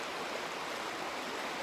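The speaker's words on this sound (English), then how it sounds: "here's our first little stream" A small, narrow, cold brook trout stream in Pennsylvania's woods flows steadily with an even, close rushing hiss and gurgle that stays constant throughout, with no voices.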